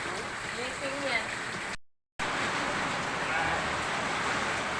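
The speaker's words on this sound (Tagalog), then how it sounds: "Tumabay pa yung ulan." Steady rain pours outdoors during cooking of pancit for a birthday, a continuous dense hiss interrupted by one brief gap, with a voice talking under it.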